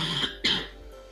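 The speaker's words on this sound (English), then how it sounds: "Sorry for the cough." A single cough from someone with a cold, close and fairly loud, with a second quieter cough-like burst before it; no speech.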